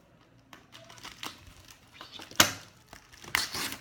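Plastic packaging crinkles and tears as it is opened with small scissors, a series of soft rustles building to two sharp, loud crackling rips close by.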